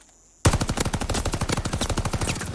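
Volkssturmgewehr rifle fire in the video game Call of Duty Vanguard, a loud rapid burst of close shots in an even rhythm starting abruptly and continuing to the end, with no voices.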